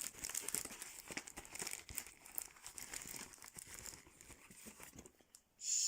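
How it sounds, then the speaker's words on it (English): Paper envelope being torn and crinkled open one-handed, close and quiet, with continuous rustling and ripping and no talking. "As you can see, I'm not a master at opening envelopes one-handed."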